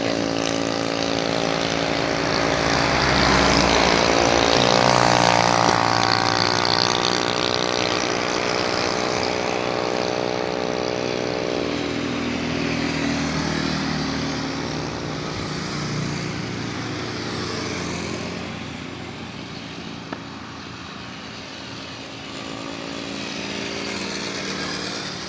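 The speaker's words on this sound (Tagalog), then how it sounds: "Ay, dumadami na yung mga sakyan." Heavy engine noise from passing vehicles on a road as traffic builds, a loud steady drone with rising and falling pitch throughout, no voices.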